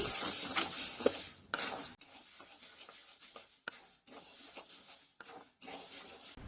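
White urad lentils dry roasting in a pan for idli podi, stirred constantly with a spatula, making soft dry rustling scrapes in short bursts separated by brief pauses.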